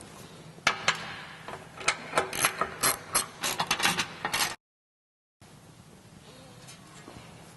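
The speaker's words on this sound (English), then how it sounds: "That is done by using a 13mm socket, and there's 5 bolts across the front and 2 in here." Ratchet with a 13mm socket loosening bumper air dam bolts on a Jeep JL/JT factory steel bumper, rapid close clicking bursts for several seconds, then a brief gap and quieter background.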